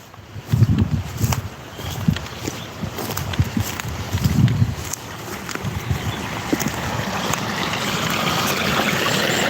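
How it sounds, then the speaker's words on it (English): Brook water flows in a steady broadband rush during an outdoor morning walk, with louder crunching steps near the start and the rushing growing slightly fuller toward the end. "Over the brook."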